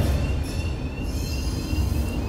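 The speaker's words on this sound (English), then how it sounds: "Oh, there it is. There's my train." A train arriving in the Alien Isolation game, a steady loud low rumble of rolling rail wheels with a faint high squeal running over it, close and continuous.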